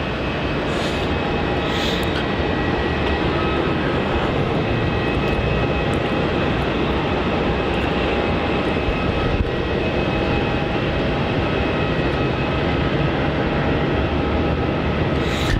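Virgin Australia flight VA820 from Sydney landing on runway 16 at Melbourne Airport: a steady, broad roar of jet engines that fills the whole stretch at an even level, with no talk over it.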